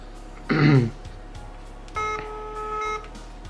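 Smartwatch from an AliExpress Lemfo haul placing a phone call: a short burst of dialing beeps, then a steady electronic ringing tone pulsing twice, loud and close with no speech.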